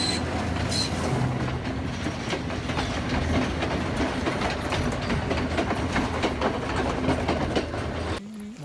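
A train climbs uphill from the Colombo side through a tunnel at Ihalakotte, Sri Lanka. Its heavy rumble and rhythmic wheel clatter stay close and loud before cutting off abruptly at the end.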